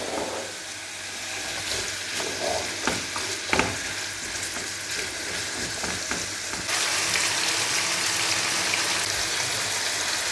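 Carrots and garlic fry in a pan while a utensil stirs them in bursts, a steady close sizzle that grows louder and denser near the end, with no talking.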